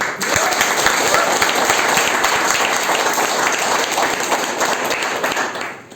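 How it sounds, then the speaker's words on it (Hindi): An audience at a Smart Value MLM business meeting breaks into loud, sustained applause, with dense clapping from many hands that holds strong throughout before easing slightly at the end. "स्मार्ट वैल्यू के लिए जोरदार ताली होती है"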